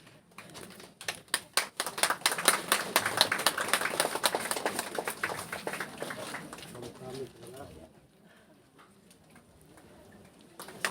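A small crowd applauds at an agricultural buyback policy launch event, dense clapping that swells, holds for several seconds, then thins to a few scattered claps.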